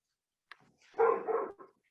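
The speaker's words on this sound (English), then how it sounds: "My dog has opinions on this." A dog gives one short yip and then a longer, grumbling bark-whine that lasts about half a second, close to the microphone in an otherwise quiet room.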